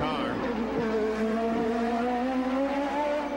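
IndyCar race cars from the 1993 Detroit Grand Prix street circuit driving past after a yellow flag, a loud engine drone with rising pitch, heard alone and close.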